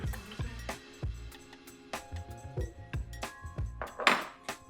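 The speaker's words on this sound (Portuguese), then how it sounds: "aqui nós vamos acrescentar os ovos" Three eggs cracked and dropped into a blender jar while preparing carrot cake batter, giving a series of sharp clinks and knocks against glass and kitchenware, fairly close, with no talk.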